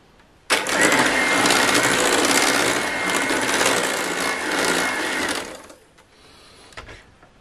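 An electric hand mixer beats a 250 g block of butter for a vasilopita cake, a loud steady whirring buzz that starts abruptly, runs for about five seconds, then cuts out into quiet.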